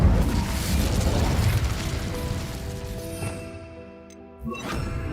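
A roaring burst from the Incendio fire spell in Hogwarts Legacy blazes loudly, then tapers into a softer crackle before a fresh flare near the end, with tonal game music beneath.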